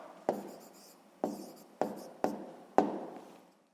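Pen strokes on paper as an answer is written down for a sixth-grade maths exercise, five short scratchy bursts each starting sharply and trailing off, close and quiet, with no voice.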